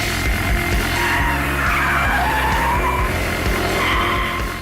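BMW M5 in full track mode doing a burnout, tyres skidding and squealing continuously with loud engine roar, sustained and close throughout with no talk.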